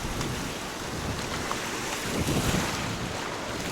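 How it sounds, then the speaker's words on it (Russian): Sea waves rush onto Varadero beach in Cuba in a steady, fairly distant wash, with wind noise brushing the microphone throughout. "Вот эти волны здесь, да, все как и тогда было."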